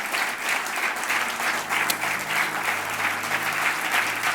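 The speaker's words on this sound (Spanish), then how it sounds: "Dale un buen aplauso al Señor." A church congregation claps for the Lord after a prayer, a steady dense wash of applause from many hands that holds at an even level throughout.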